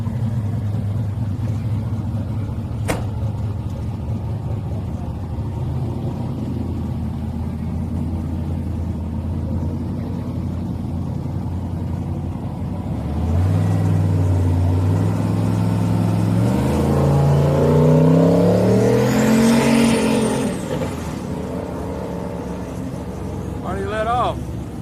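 Turbocharged drag race car at a grudge racing event, a steady idle rumble giving way to a loud run of rising engine pitch through several gear changes, with crowd voices talking over it.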